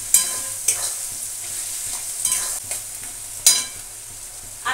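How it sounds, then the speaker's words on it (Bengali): Onions fry in a pan for a home-style potato and pea curry. Soft, steady sizzling runs under several sharp scraping strokes of stirring at irregular intervals, fairly close and moderately quiet. "পেঁয়াজটা সুন্দর করে ভাজা হোক।"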